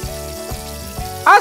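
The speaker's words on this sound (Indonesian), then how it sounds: "Goreng hingga matang, sematang Abang Reza Rahardian." Sesame-coated dough balls drop into hot oil for deep-frying, giving a low bubbling sizzle with a brighter splash near the end, with faint voice in the background.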